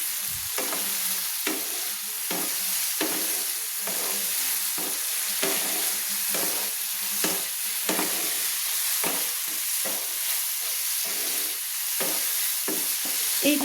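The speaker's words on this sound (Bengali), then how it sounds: "শিমের বিচিগুলো মশলার সঙ্গে আমি কষিয়ে নিচ্ছি।" Bean seeds fry with spices in a pan, giving a steady sizzle punctuated by repeated scraping clicks of a stirring spoon roughly every half second, close and alone without talk.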